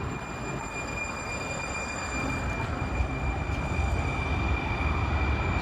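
A Valley Metro train rumbles past at close range, a steady broad roar with a high whine and faint clanks that grows slightly louder toward the end, with no voices.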